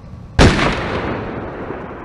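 A sudden loud burst of weapons fire in the BattleTech mech combat game, one sharp heavy blast followed by a long rumbling decay.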